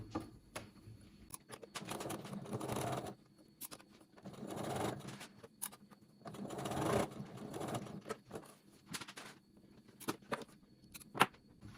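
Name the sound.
sewing machine stitching trouser darts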